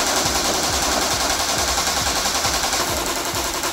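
An Acetech Bifrost tracer unit on an airsoft gun fires a rapid, steady stream of shots in a shooting test, a fast even rattle of clicks over a loud hissing background, continuous and close.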